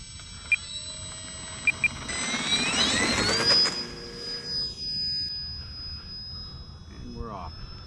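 An Arrows Corsair 1100mm RC plane taking off on its maiden flight: an electric motor whines up and rises in pitch, then drops away as the plane climbs off, with a few sharp beeps and a voice speaking nearby.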